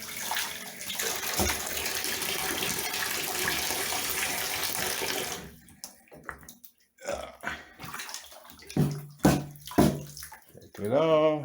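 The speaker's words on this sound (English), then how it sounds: "I like to take it over into the tub, run hot water." Hot water gushes steadily from a tap into a bathtub for several seconds, then stops, followed by a few sharp knocks and gurgles.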